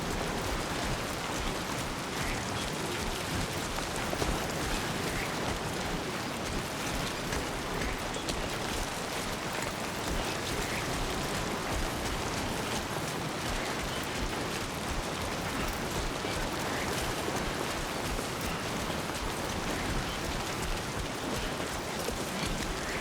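Steady, heavy rain hisses continuously in the video game Death Stranding 2, a dense, unbroken downpour that stays even and loud throughout with no voices.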